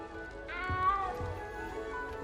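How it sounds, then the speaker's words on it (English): A small cat meows in Hogwarts Legacy, a single drawn-out plaintive meow at moderate volume over a quiet game background. "You don't need to be frightened, little cat."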